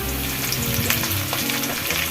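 Pumpkin, potato and brinjal fry in oil in a pan with a loud, continuous sizzle and occasional stirring scrapes, close up.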